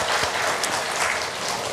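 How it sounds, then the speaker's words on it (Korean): A church congregation at a Korean Sunday service bursts into sustained, steady applause that fills the room evenly from start to finish, with no talking over it. "모든 영광을 하나님께 영광의 박수하겠습니다"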